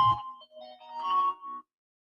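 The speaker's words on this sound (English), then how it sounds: "That was my alarm to end my video." A phone alarm plays a short electronic chime melody of a few tones, clear and fairly close, then cuts off abruptly into silence, with a brief bump at the start and no talk.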